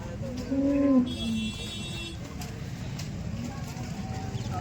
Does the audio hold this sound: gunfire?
no